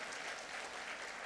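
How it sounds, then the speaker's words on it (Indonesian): Audience applause at an inauguration ceremony of a Chinese-Indonesian association in West Kalimantan, a dense, even wash of clapping heard alone and fairly faint. "Tepuk tangan untuk itu."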